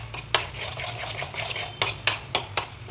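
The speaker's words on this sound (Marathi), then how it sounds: "तेल सुटेपर्यंत आपल्याला हा मसाला परतायचा आहे" Spice masala frying in oil for mutton rassa, stirred with a utensil: a low steady sizzle under several sharp scraping clinks against the pan at an uneven pace, close and moderately quiet.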